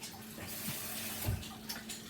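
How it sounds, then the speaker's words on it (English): Water pours into a kitchen blender jar holding honey while a summer drink is made, a short splashing trickle at close range with no talk. "Then we're going to put a little bit of water, just enough to get a little bit in there."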